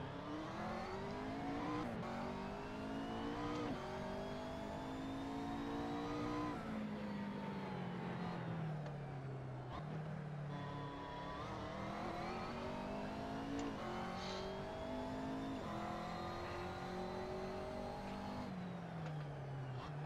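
McLaren MP4-12C GT3 race car engine in the Assetto Corsa racing game, revving loud and steady through repeated rising gear sweeps with brief drops at each shift, no voices over it.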